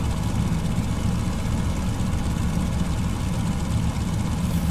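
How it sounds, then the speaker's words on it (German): A Fokker F-VII's engine runs just after start-up in Microsoft Flight Simulator, a steady, loud, low droning hum and propeller rumble that holds constant throughout with no voices. "Aber jetzt habe ich eigentlich den Motor gestartet"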